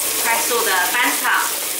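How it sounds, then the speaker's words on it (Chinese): Baby corn, celery and green beans tossed quickly in a hot pan, a loud continuous sizzle with scraping movement, and a voice audible underneath. "快速的翻炒"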